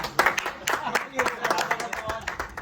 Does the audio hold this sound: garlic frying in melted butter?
no